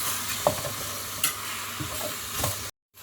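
Chilli and tomato stir-fry in hot oil in a pan for paneer devilled, a constant close sizzle broken by about four distinct scraping stirs of a spoon.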